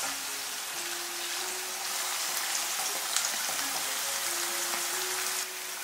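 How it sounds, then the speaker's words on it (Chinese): Onion and coriander frying in hot oil hiss and crackle in a steady, dense sizzle like light rain, holding at an even level throughout with no voices. "我们就把洋葱跟香菜放进来炸，炸到金黄色就可以。"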